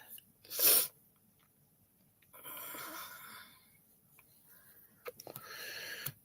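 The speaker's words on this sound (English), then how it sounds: "I have to sneeze." One sharp, close sneeze bursts out, followed by soft rustling and faint movement in a quiet room.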